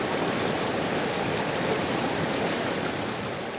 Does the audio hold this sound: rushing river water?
yes